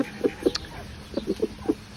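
Hens and a gray rooster cluck nearby in a farmyard, a series of short soft clucks in two loose bursts over a quiet background.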